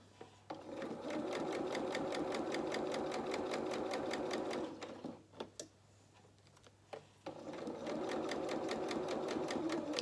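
A sewing machine stitches fabric for a frilled shorts and dungarees sewalong. A steady rapid run is followed by a short pause with a few clicks and handling noises, then the stitching starts again, close by.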